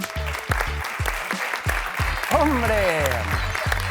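Audience applauding a TV presenter from Aragón Televisión at a live event, clapping running beneath loud speech and exclamations from several voices.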